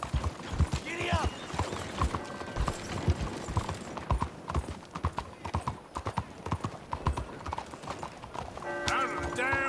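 Horse galloping in the video game Red Dead Redemption 2, rapid loud hoof clip-clops at close range with whinnies and snorts, game voices talking over the hoofbeats.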